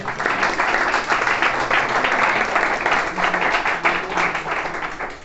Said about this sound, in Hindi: इसी के साथ कासिम साहब के लिए एक बार फिर से तालियां